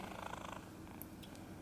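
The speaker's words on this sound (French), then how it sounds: "Il ronronne comme super fort." A cat purrs loudly and steadily up close at home, a continuous low rumbling texture with no voices over it.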